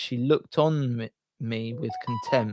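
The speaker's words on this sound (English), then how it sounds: "that's my phone going off. I can't actually turn it off" A mobile phone goes off with short electronic tones that rise briefly under a voice reading a scripture passage aloud during a live broadcast.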